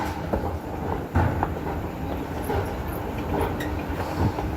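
A Melbourne suburban train rumbles steadily from inside a carriage while riding along, with a few sharper clicks and knocks from the wheels and no talking.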